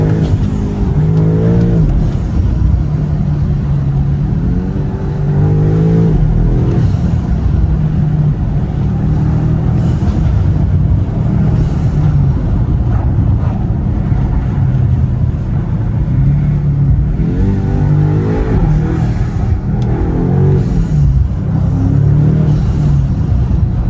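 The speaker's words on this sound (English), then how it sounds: "The sound of the intakes is absolutely ridiculous, and the tone of the exhaust is perfect." A BMW G90 M5 drives along a country lane with its engine intake and exhaust loud and close. A steady deep drone swells with several rev rises and eases back, and no one speaks.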